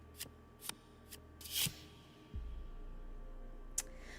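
A deck of playing cards being shuffled, a few quick riffling bursts close by, then a low steady hum underneath and one last sharp flick near the end.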